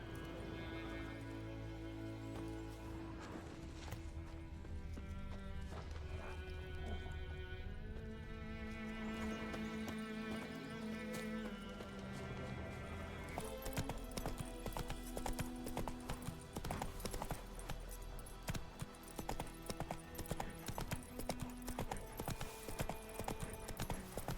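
Horse hooves clip-clop steadily in The Witcher 3 video game, a quiet, regular rhythmic beat of footfalls under layered musical score and ambient game sound.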